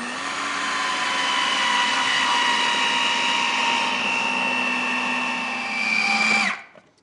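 An electric food processor whirs steadily at close range, blending a chicken filling seasoned with salt and sesame oil for steamed buns, then winds down abruptly to silence.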